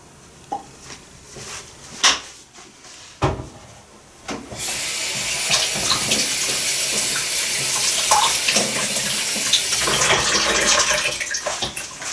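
A few sharp clatters and knocks, then a steady stream of water pours from a kettle continuously for several seconds, splashing into a container nearby.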